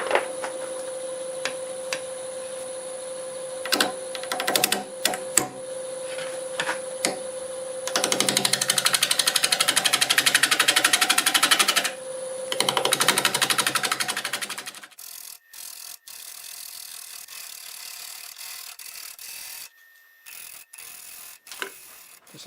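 A lathe hums with rhythmic mechanical clicking, then a drill grinds steadily into hard end-grain juniper wood for several seconds before the motor winds down to sparse ticks.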